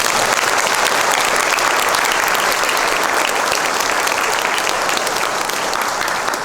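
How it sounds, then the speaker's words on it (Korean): Wedding guests at a nuptial Mass applaud the newly married couple, a dense, loud, steady wash of many hands clapping together that fills the whole stretch without a break. "이제 박수로 환영해 주시면 좋겠습니다"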